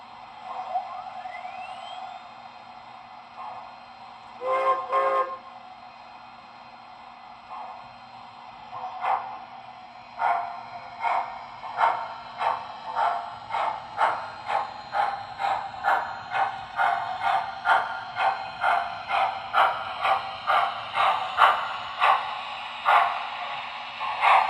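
An MTH RailKing Pennsylvania Railroad 0-8-0 model steam locomotive starts up, giving a few sharp whistle-like blasts, then a steady rhythm of chuffs that quickens and grows louder as it gets moving, with a constant low hum underneath.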